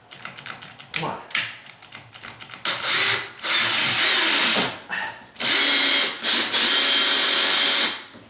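A power drill drives 2-inch screws into a sagging door, loud whirring bursts starting and stopping several times, the longer runs near the end, with short pauses between and a voice briefly in the gaps.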